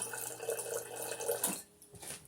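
Water poured into a blender or cup while making a healthy shake, a steady close trickle running about a second and a half before stopping, then a faint splash.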